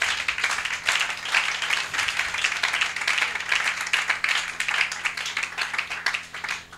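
A church congregation at a service on spiritual combat applauds for the Lord Jesus Christ, with a dense, steady patter of many hands clapping together, fairly loud and sustained throughout.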